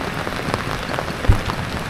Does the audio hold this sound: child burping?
no